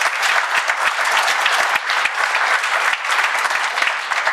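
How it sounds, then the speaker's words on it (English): Conference audience applause during a closing plenary session, sustained dense clapping from a crowd, loud and even with sharp individual claps standing out. "Let me ask you to join me in a round of applause for Jennifer"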